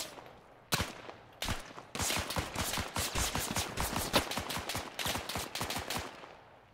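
Gunfire from the video game ArmA 3 in a World War II setting. Sharp single shots give way to rapid automatic bursts, loud and close, with no talking over them.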